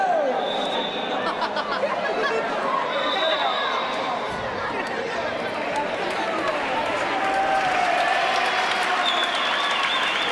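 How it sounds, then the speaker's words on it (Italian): Steady, loud crowd applause fills a women's basketball playoff final gym as a player leaves the court, mixed with chatter, shouts and squeaking shoes, continuous throughout. "Esce fra gli applausi convintissimi del suo pubblico Cecilia Verulo."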